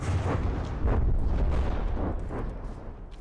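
Heavy weapons fire from drones in the naval-combat game From the Depths, a dense, continuous barrage of booming blasts and rumbling impacts that rolls on without pause for several seconds, with no voices over it.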